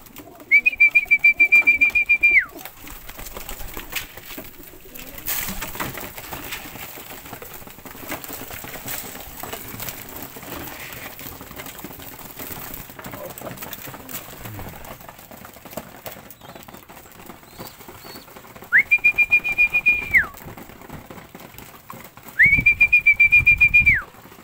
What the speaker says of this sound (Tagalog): yung nagaganda ang mga kalapati natin